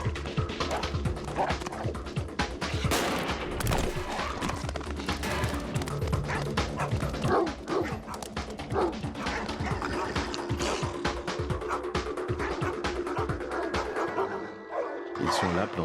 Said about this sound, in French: Ils sont là, plantés, et ils aboient.